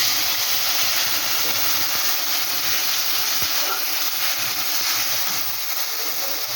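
A little water poured into a hot pan while cooking a semolina snack sets off a loud, continuous hissing sizzle that holds steady and close throughout, with one or two faint knocks.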